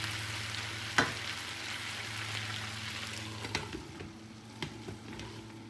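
Potatoes cooking in a country skillet give a steady, even sizzle and crackle that runs through the whole clip, with a few faint clinks of a utensil near the end and no talk.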